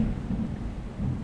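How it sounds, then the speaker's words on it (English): Low rumbling thunder from a thunderstorm drawing closer, muffled and continuous through a short stretch, heard indoors with windows closed. "Now that's a thunder."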